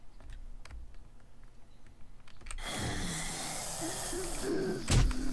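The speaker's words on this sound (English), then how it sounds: "there's that damn bird" A bird calls in the video game 7 Days to Die, a brief hooting cry that rises over a rushing wind-like ambience after quiet clicking, with a heavy thump near the end.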